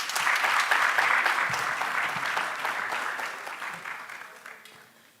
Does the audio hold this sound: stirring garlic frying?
no